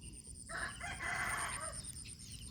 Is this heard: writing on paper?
no